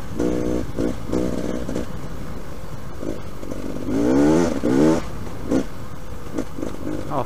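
A Beta Xtrainer trail motorcycle revs in short bursts on a slippery, muddy woodland trail. The engine note rises and falls as the throttle is blipped, loudest around the middle, with a rider's voice audible over it at times.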